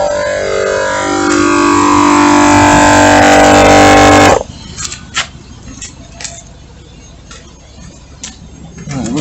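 A Tozalazz 12-volt air compressor pump runs with a loud, steady mechanical drone for about four seconds, then cuts off abruptly, leaving a quieter room with scattered small clicks and taps.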